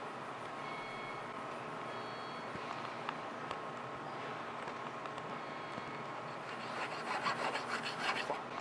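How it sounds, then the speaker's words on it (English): A jeweler files and contours a finished metal ring, giving steady close rasping strokes that grow busier and louder near the end, over a faint background hum. "Now it is time to file and contour the finished piece."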